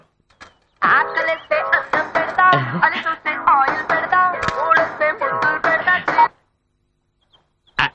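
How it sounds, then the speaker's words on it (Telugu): A cell phone ringtone plays a loud, bright electronic melody of quick tones for several seconds in a comedy scene, then stops abruptly and leaves near silence. "సెల్ ఫోన్ సౌండ్ కూడా ప్రశాంతంగా సౌండ్"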